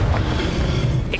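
A Confringo spell blast booms out in Hogwarts Legacy on Nintendo Switch, a loud, dense burst of low rumble filling the whole short moment, with no speech over it.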